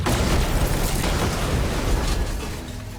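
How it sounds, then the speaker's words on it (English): A big explosion in the video game Warhammer 40,000: Chaos Gate Daemonhunters, a loud, dense roaring blast with crackling debris that stays heavy for the full stretch and then eases slightly. "Pretty big explosion from those things."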